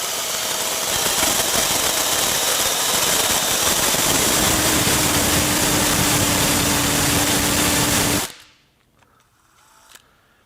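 A carbide-toothed hole saw grinds steadily through a workpiece for about eight seconds, a loud, harsh continuous drilling roar that then stops abruptly, leaving faint handling clicks.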